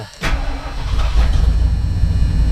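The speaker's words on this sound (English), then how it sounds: "now listen to her start" A 1978 Ford Bronco with a 351M V8 cranks and catches almost at once, then settles into a loud, close, rough rumbling run.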